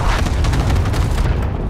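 A cluster strike explosion in Call of Duty, with dense, rumbling booms rolling continuously through a short stretch of loud, heavy blasts.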